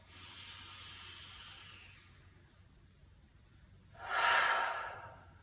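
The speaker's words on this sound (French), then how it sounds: "on viendra faire 3 grandes respirations. Et soufflez." Deep exhale during a Pilates breathing exercise, a single loud breathy rush near the end following quieter airy breathing, close and alone with no talk.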